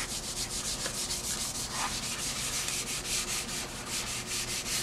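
Steady abrasive rubbing of sandpaper against thick poly primer on a car body, a continuous gritty hiss with a rhythmic back-and-forth pulse, close and fairly loud.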